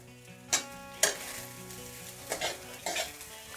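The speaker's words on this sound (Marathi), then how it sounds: "आता आपण ह्या मसाल्यामध्ये जे पातीचे कांदे निघले होते ना ते कांदे पण टाकून देऊ आणि एकदा परतून घेऊ कांदे" Spring onion greens are stir-fried in a roasted masala, a soft continuous sizzle broken by a few sharp scraping clanks of a spatula against the pan, close by and without speech.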